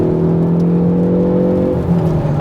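A 2019 Hyundai Veloster N engine drones steadily as the car accelerates hard, a loud, close, continuous engine note heard from inside the cabin with a slight change in tone near the end.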